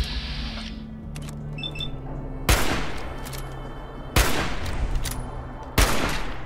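Three loud gunshots go off in Fallout 4, spaced about a second and a half apart, each a sharp close crack with a short tail, over quieter game ambience and faint clicks.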